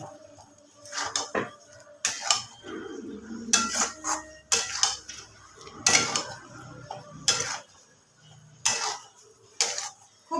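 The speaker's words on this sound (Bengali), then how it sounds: "নাড়াচাড়া করবো আলুগুলোকে মশলার সাথে ভালোভাবে মিশিয়ে নেব" Fried potatoes tossed with spice masala in a pan for Kashmiri aloo dum, a metal spoon clinking and scraping against the pan in irregular close bursts separated by quieter gaps, with no voices.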